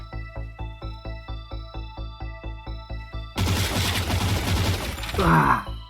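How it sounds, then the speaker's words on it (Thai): Gunfire in the game FAKE SIGNALS: evenly spaced, rapid shots in a regular rhythm, then a denser, louder stretch of overlapping blasts and clatter near the end. "แล้วก็ยิงด้วยอันนี้แล้วกัน ใช้ปืนยิงไป"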